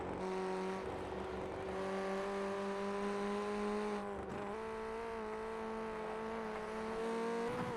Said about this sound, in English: Just beautiful sounding cars.